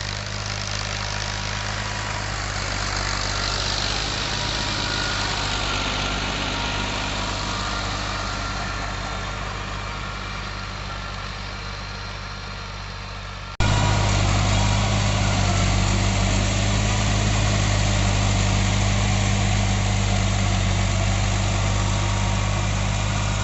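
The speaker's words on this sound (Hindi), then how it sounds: "आप इस रोटावेटर की एक वर्किंग वीडियो देख लें।" A Pakistani-made rotavator with a special gearbox and 36 to 60 blades runs behind a tractor, making a steady, loud engine drone with churning vibration that grows louder halfway through. No voices are heard.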